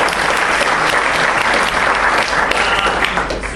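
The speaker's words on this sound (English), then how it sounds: "big round of applause again" Loud, dense audience applause at the close of the Deep Learning IndabaX 2018 machine learning conference, a thick continuous roar of many hands clapping close up, steady throughout.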